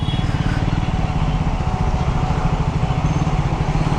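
A Triumph Scrambler 400 X motorcycle engine running with a fast, even, throbbing pulse. It is close and loud, steady throughout with no talk over it.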